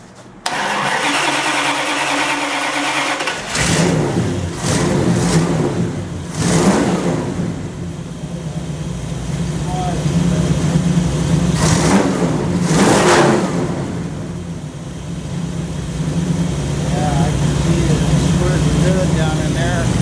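A warm 1929 Chrysler 360 engine, recently fitted with a new AFB carburetor accelerator pump, fires up and then revs in several loud swells before settling into a steady, close idle. A voice talks over part of it.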